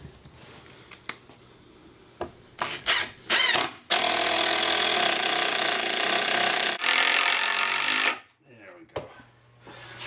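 Screws driven one after another into a heavy-duty wooden sawhorse with a power driver, several bursts of whirring and a long sustained run in the middle, close and loud, with short quieter gaps and bits of handling noise between.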